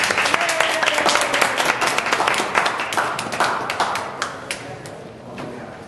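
A conference audience in Denver gives loud, dense applause to welcome a business speaker. The clapping is steady at first, then thins out and fades toward the end.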